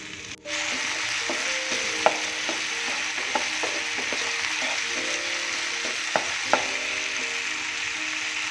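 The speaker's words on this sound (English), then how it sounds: "so I have also added the tomatoes. So let's fry them well." Chopped vegetables and tomatoes frying in a pan for masala poha: a steady even sizzle underneath, with occasional sharp taps and scrapes of a spoon stirring, heard close and without voices.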